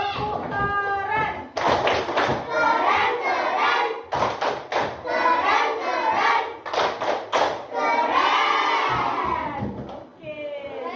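A class of children performs a rhythmic group clap, bursts of patterned claps and thumps mixed with loud shouting and chanting voices, energetic and close, filling the room.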